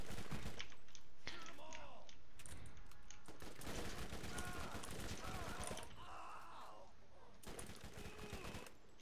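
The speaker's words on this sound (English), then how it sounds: "A pump action sniper." A pump-action sniper rifle fires repeatedly in the video game Borderlands Remastered during co-op play, mixed with dense in-game gunfire, clanking mechanisms and effects. The shots come in loud clustered bursts and keep going throughout.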